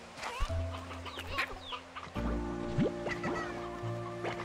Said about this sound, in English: I don't think we're gonna need the rooster.